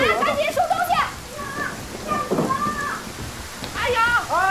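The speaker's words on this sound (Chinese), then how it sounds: "下雨了。 怎么下雨了？ 这这么突然啊。" Sudden rain falls in a village scene, a steady broadband wash running under several people talking excitedly, with voices rising and overlapping throughout.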